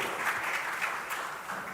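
An audience at a Nigerian programme launch applauds to welcome a speaker to the lectern, producing steady, moderately loud clapping from many hands that continues unbroken throughout.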